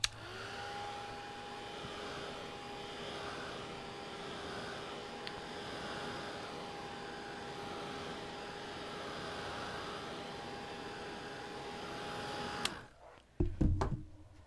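A hair dryer blows steadily and loudly for about twelve seconds to dry paint on a painting, then cuts off abruptly, followed by a few brief knocks and handling sounds.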